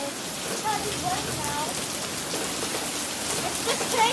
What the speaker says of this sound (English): Oh, this is really hard rain.